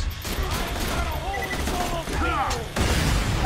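Rapid gunfire from a weapon in a video game, crackling bursts layered with whooshing and pitched effects, partly under a voice.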